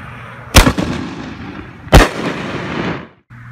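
Two Ultimate Sacrifice aerial firework shells burst loudly about a second and a half apart, each sharp boom trailing into a crackling, fizzing spread before the sound drops away.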